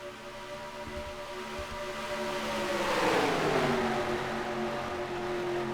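Race cars accelerating at the green flag at Homestead in a sim racing game, a dense droning engine roar that swells and rises in pitch, a Doppler sweep of cars passing near mid-clip.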